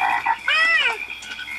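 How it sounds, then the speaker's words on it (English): A frog in the video game TY the Tasmanian Tiger gives a loud, close croak, a couple of short warbling calls with no talk over them. "It's a frog."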